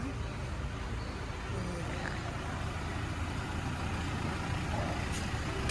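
Toyota Hilux Revo Prerunner 2.4E Plus four-door pickup from 2019 idling steadily with a low, even diesel rumble, continuous and fairly close, with faint background noise.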